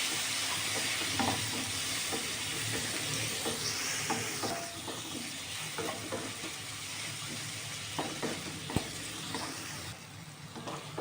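Onion and tomato fry in a pan for chaat, a steady moderate sizzle and hiss with scattered scraping stirs, heard alone with no talk.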